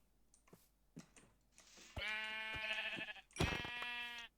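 Sheep in the Minecraft video game bleat in two loud, close, drawn-out calls, with faint clicks and soft taps before them and no speech.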